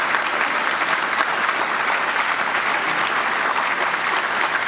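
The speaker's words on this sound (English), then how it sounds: "So give a big round of applause to your great leader and guide in the court system here." Sustained, loud audience applause fills a summit hall after a call to honor a state attorney, steady dense clapping with no break and no speech over it.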